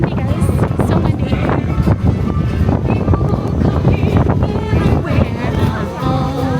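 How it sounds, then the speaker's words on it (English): Strong wind buffets the microphone outdoors at Magic Kingdom on a hurricane day, a steady loud rumble throughout with someone talking over it. "It's so windy, guys."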